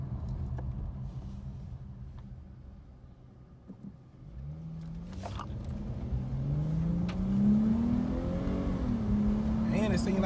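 A Dodge Challenger SXT fitted with an AFE cold air intake accelerates from inside the car, the engine note rising and climbing in pitch as it picks up speed, with voices talking over it.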